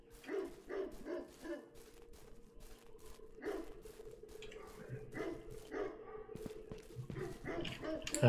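Dogs barking in the survival game Will to Live Online: repeated short barks and yips at a moderate distance, coming in bursts over a low game ambience with faint background noise.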